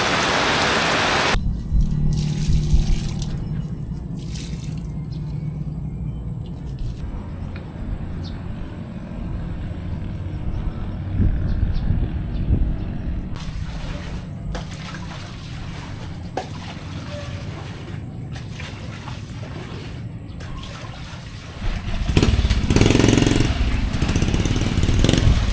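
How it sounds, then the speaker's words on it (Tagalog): Steady heavy typhoon rain from Typhoon Maymay pours down in a continuous dense hiss, with a brief engine-like rumble mixed in and the downpour growing louder near the end. "tuloy yung ulan eh"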